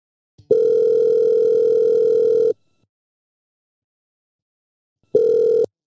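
A telephone call rings out on the line: a loud, steady ringback tone lasts about two seconds, followed by silence, then the tone starts again.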